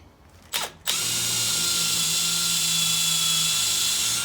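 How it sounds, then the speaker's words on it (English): Power drill pre-drilling hardwood for bugle screws during deck construction: two brief starts, then a sustained high-pitched whine held steady, loud and close. "Always pre-drill for the bugles going into the hardwood."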